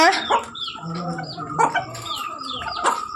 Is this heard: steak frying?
no